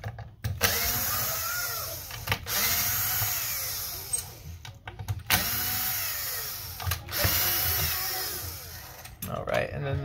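An electric screwdriver backs out the short black screws of an Xbox Series X console during disassembly, whirring in several separate bursts of about a second each, with brief clicks and handling noises between them and a voice talking at times.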